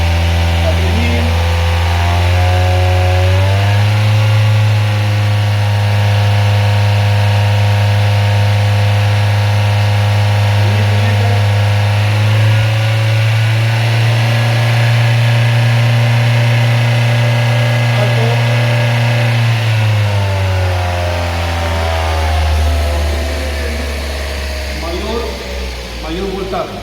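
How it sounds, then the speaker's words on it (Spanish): A car engine under a charging system test climbs to a steady high rev and holds there for long stretches, then eases back down. The droning hum stays loud and close, with a voice speaking Spanish over it. "aumente las RPM a 2500."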